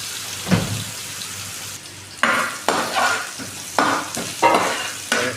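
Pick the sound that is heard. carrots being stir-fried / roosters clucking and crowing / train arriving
carrots being stir-fried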